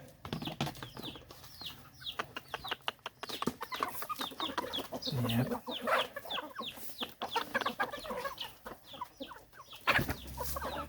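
Native chickens in a coop cluck and squawk in overlapping bursts, with occasional rustling and wing flaps, moderately near and continuous.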